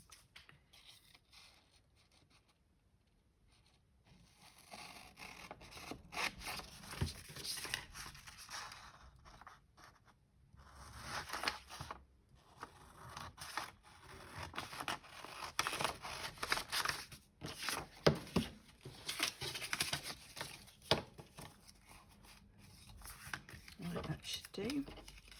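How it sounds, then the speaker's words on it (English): Large scissors cutting paper for a journal pocket, a series of crisp snipping and rustling paper sounds close by, irregular and intermittent with brief pauses, alongside handling noises of the craft work. "Where's my big scissors?"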